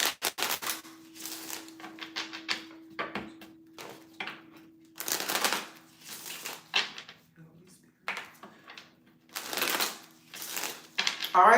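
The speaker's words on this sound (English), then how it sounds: "So let me shuffle the cards." A deck of tarot cards is shuffled by hand in repeated quick riffling bursts separated by short pauses, close and clear over a faint steady hum.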